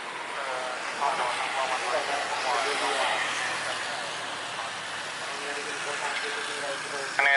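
A jet airliner powers up for takeoff on runway 07 left at Soekarno-Hatta (CGK) airport, a broad steady engine roar holding at moderate distance throughout, with faint voices mixed in.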